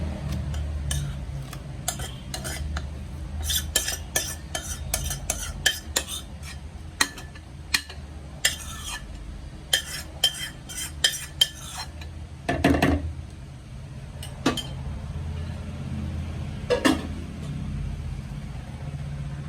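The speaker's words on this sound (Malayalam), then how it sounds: "നട്ട്സ് ഇട്ട് കൊടുക്കാം. അത് നന്നായിട്ടൊന്ന് ഇളക്കി യോജിപ്പിക്കാം." Nuts being stirred into a sugar mixture for carrot cake, with a steady run of quick clinks and taps of a spoon against a bowl, close and busy, pausing briefly before a few louder knocks.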